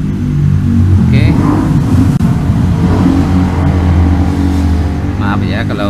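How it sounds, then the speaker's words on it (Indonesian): A loud motor engine runs close by with a steady low rumble and harmonic drone, continuous throughout, with faint talk occasionally over it. "Ini suara motor agak kencang-kencang."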